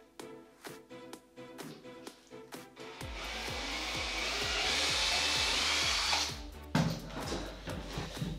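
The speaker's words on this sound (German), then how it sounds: "Und dann bohre ich jetzt mal die ersten Löcher." A power drill bores the first holes in wood for a model railway baseboard frame: rhythmic knocks, then a loud steady whirring run of about three seconds, then more clunks.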